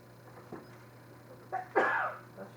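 A single sharp sneeze bursts out in a quiet room, preceded by a couple of faint breathy intakes and a low steady hum underneath.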